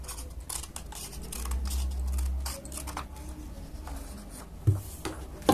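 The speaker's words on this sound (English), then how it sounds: "I will be cutting it like this." Scissors cutting paper to shape a paper mask, heard as soft, close snips and rustling paper, quiet and alone with no speech.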